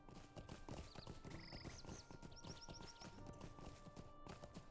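Hooves of horses in the LOTRO game clatter in a quick, continuous clip-clop, close and steady, with faint whistling chirps over the top and no talking.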